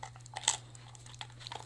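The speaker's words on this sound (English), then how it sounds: "We're just hanging out, chewing this together." A coonhound chews on something close by, with brief crunching bites and gnawing in short irregular bursts over a steady low hum.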